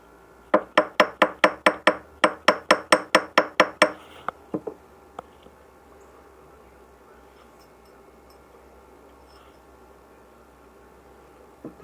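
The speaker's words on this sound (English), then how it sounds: "we're going to grab our ball peen hammer and do a little bit of tapping here" A ball peen hammer taps a metal ring in a jewelry workshop: about fourteen crisp, ringing metallic strikes in a steady rhythm, then a few sparser, quieter taps before the sound fades to near silence.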